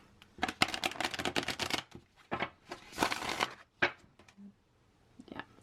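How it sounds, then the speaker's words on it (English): A worn tarot card deck being shuffled by hand, several uneven bursts of riffling and rustling, close and moderately loud, with gaps between them and no talk. "it's not a nice, super smooth shuffle anymore"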